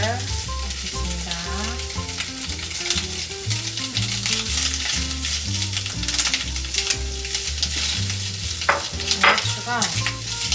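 Stir-frying with sauce in a pan, a dense sizzle with repeated scraping stirs running throughout, close and steady over faint background music.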